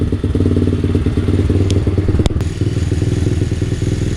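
A small dirt bike engine idles steadily and loudly at close range, its rapid putter continuous throughout, with a couple of sharp clicks partway through.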